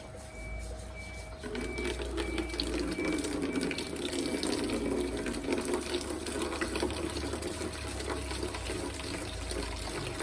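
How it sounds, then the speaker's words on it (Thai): Water gushing steadily from a tap into a DIY aquarium filter tank, a loud continuous splashing rush that starts after a short, quieter opening and carries on to the end. "จะปล่อยน้ำเลยนะครับ"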